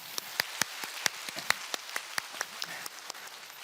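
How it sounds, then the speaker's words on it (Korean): Scattered hand claps ring out in a church congregation during a Sunday service, a sparse irregular series of distinct claps, moderately close, with no talking. "하나님께 영광의 박수 올리도록 하겠습니다"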